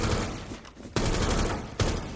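Gunfire in Rainbow Six Siege as a player drops through a hatch, a dense stream of close, loud shots with two brief gaps, alone without talk.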